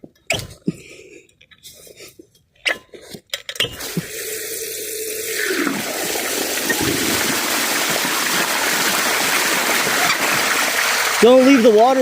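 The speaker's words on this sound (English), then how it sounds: "Don't leave the water running." A tap left running pours water in a steady, continuous rush that swells and fills the space, following some brief knocks and a voice speaking.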